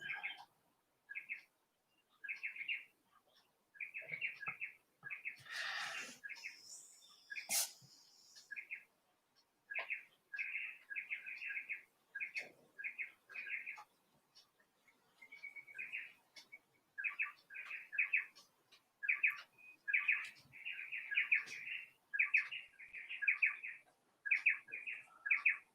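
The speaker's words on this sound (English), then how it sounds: "There's birds on the veranda." Wild birds on a veranda chirp and tweet in repeated short, bright phrases, with brief gaps and scattered clicks and rustles between calls.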